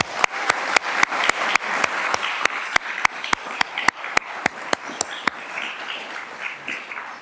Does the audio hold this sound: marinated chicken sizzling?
no